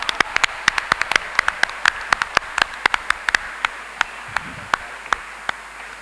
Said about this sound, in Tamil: அதுக்கே ஒரு பெரிய கைத்தட்டை கொடுத்து நீங்க பாராட்டணும்.